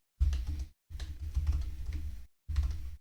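Keys clatter on a computer keyboard in three quick bursts of close, rapid typing separated by short pauses.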